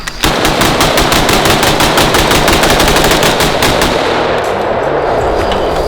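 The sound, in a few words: gunfire from H&K MR762 and Sig Spear M7 battle rifles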